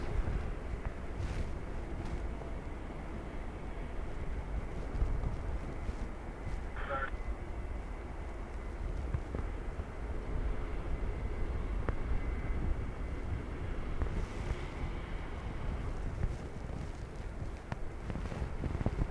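Blustery crosswind at Dublin Airport buffeting the microphone, a continuous loud rumbling roar with surges throughout and faint background noise.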